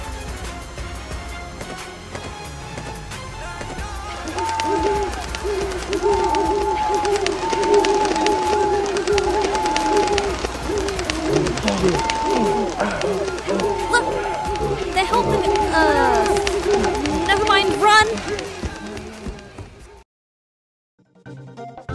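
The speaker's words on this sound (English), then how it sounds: "Those birds were relentless." Pigeons coo and flutter in a dense, chaotic flock in a cartoon-style scene of attacking birds, with layered cooing and busy scuffling throughout, mixed with overlapping voices, before ending in near silence.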